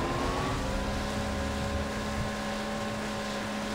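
A jet ski engine in the Far Cry 3 video game drones steadily with a loud, continuous motor hum and wind, close and unbroken throughout.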